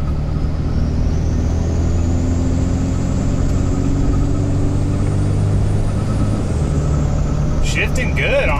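A Cummins diesel-swapped Ford truck drives along, its engine holding a loud, steady low rumble heard from inside the cab, with a slow rise and fall in pitch and a person talking over it.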